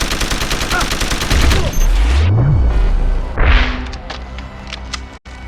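Gunfire in the action game Deus Ex: Human Revolution: a rapid automatic burst followed by booming impacts and mechanical whirs, loud and close, with a sweeping tone rising then falling in the middle.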